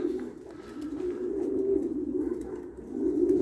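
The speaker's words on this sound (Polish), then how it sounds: "Tych gołębi mam dosyć dużo różnych, tak wam mniej więcej pokazuję." Racing pigeons in a loft coo with low, throaty, rolling calls that swell and fade in a near continuous murmur, close by and moderately loud, with no speech.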